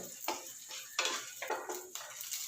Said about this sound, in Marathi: गॅसची फ्लेम स्लो करून डाळ तेलामध्ये तळून घेऊया